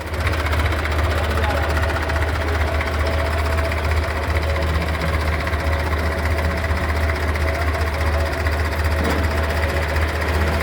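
An old 1970 model Hindustan tractor engine runs close by, a loud, steady, knocking idle drone that continues without a break through the whole stretch.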